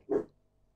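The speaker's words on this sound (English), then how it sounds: "Excuse my dog barking in the background." A single short dog bark sounds once from the background, then fades into quiet.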